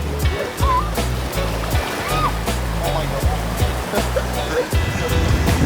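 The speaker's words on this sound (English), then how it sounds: "I can hear the white water." White water rushing along a river in Jamaica while tubing, a loud, continuous turbulent wash heard up close with voices talking over it.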